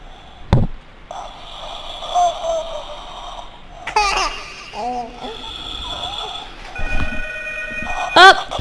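A telephone rings repeatedly in a horror video game, its trilling bursts mixed with eerie game sounds and a person's brief voice nearby.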